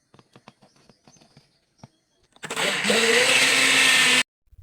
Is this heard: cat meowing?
no